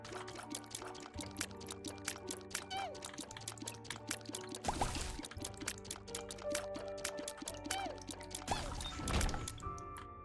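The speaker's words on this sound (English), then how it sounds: "Also, it filled the room with water." Big Flush item in The Binding of Isaac filling the room with water: a continuous, fairly quiet pouring and gushing rush under layered game sounds and music.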